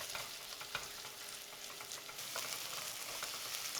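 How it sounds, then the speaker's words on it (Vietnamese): Minced garlic and shallots sizzle steadily in hot oil in a pot with a soft, crackling hiss, close but quiet, with occasional stirring. "Mình cho vào nồi một muỗng canh dầu nè, rồi mình cho hành tỏi băm vào phi thơm lên."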